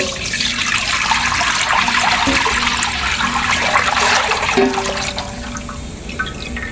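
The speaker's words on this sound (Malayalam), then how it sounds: "അതിലേക്ക് പാലടയുടെ മെയിൻ ഒന്നായി പാൽ ഒഴിക്കുകയാണ്" Milk pours steadily into a metal cooking pot, a continuous rushing, gurgling splash that runs for several seconds, close and loud.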